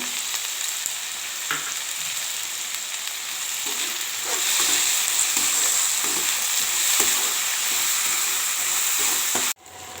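Tomatoes and onion fry in a pan for Andhra-style rasam with a continuous bright sizzle and occasional stirring taps, ending in a sudden cut.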